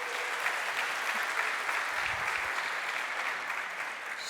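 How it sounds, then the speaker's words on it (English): Audience at a conference talk on generative AI applauds steadily, a dense sustained clapping that tapers slightly toward the end with no voices on top. "let's give a round of applause for Valencia and Malaga"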